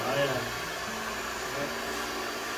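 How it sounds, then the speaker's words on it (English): Blow dryer run over a customer's hair in a barber shop, a steady broadband whoosh of airflow that holds at constant loudness throughout, with faint background voices underneath. "using the blow dryer, but it's actually a manipulator of the hair"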